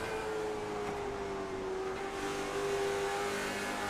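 Super late model race cars circle Nashville Fairgrounds Speedway, a steady, fairly distant engine drone with a sustained whine that shifts slightly in pitch, continuous for the whole stretch with no talk.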